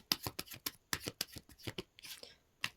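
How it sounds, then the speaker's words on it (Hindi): Tarot cards being drawn and handled from a deck, with a rapid run of crisp papery slaps and flicks, close and loud, ending with a softer shuffle and one final snap. "आपके लिए मैं कुछ कार्ड निकाल रही हूँ।"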